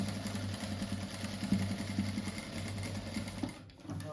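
Sewing machine running steadily as it stitches strips cut from knit T-shirts, a fast even mechanical whir with a rhythmic needle pulse, fairly quiet and close, stopping briefly near the end.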